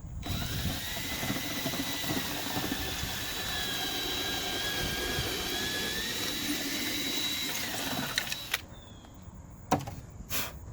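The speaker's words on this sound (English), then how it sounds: "All right, so let's start drilling." Power drill boring into a Jon boat pontoon: a steady, loud motor whine runs for about eight seconds, then cuts off, followed by a few sharp clunks and handling knocks.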